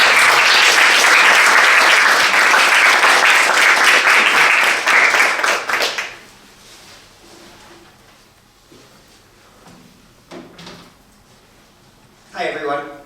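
Audience applause welcoming Professor Haney López to a lecture on racism, plutocracy and the 2020 election: loud, dense clapping from a crowd for about five seconds, then fading into quiet room noise with small shuffles.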